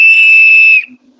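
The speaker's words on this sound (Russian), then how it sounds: "Для того, чтобы использовать свисток, нам надо закидывать голову назад." A shaman's spirit-calling whistle is blown in one steady, piercing note that holds for under a second and then cuts off abruptly. The note is loud and close, with no voices.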